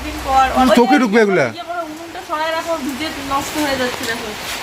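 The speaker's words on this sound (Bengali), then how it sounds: "অনেকদিন পর আজকে বৃষ্টি হচ্ছে মানে এই সিজনে প্রথম বৃষ্টি" Steady hiss of the season's first rain falling outside a home balcony, a continuous soft wash that sits under close, lively talking throughout.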